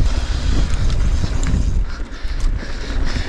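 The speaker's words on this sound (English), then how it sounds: "It's so windy!" Strong gusting wind buffets the microphone on a mountain bike trail in Peru, a loud, steady roar with rumbling low-end swells and no talking over it.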